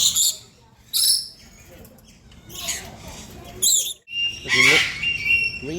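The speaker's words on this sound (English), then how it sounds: "Green parrots." Green parrots at a bird park in Kuala Lumpur give harsh, repeated squawks and shrill chirps in bursts, close and loud, with other birds calling around them.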